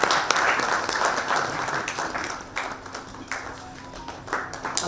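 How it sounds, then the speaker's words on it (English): Audience applause at an Air Cargo Agents Association of India event, a dense spread of many hands clapping through a memento presentation, close and fairly loud, with irregular louder claps on top and a faint background tone. "A round of applause as we do the same"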